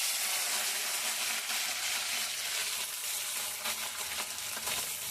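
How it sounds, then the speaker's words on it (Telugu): Fish for andu chapala curry fries in hot oil, giving a dense, continuous close sizzle with crackling spatters and light stirring noises, no talking. "ఇట్లా కడుక్కొని ఇట్లా నూనెలో వేయించుకోవాలి మంచిగా"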